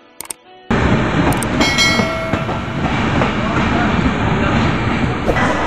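Rajendra Nagar Patna–Saharsa Intercity Express rolling along with a steady, loud rumble and rattle from inside a general coach, faint clicks of the wheels running throughout after a short quiet start.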